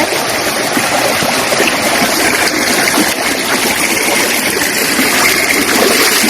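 Water rushes through a canal in a loud, steady, continuous flow, a dense broadband churn that never lets up, with no voices heard.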